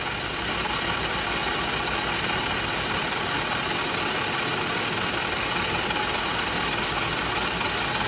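A lathe runs steadily while a specially sharpened hacksaw blade deburrs the edge of a piston, giving a dense, continuous machine hum and hiss close up with no clear breaks.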